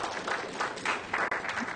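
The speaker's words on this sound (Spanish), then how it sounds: "Vamos a dar un aplauso al Señor por nuestras finanzas." Church congregation applauding together, a steady patter of clapping hands filling the room at moderate level for a couple of seconds without talk.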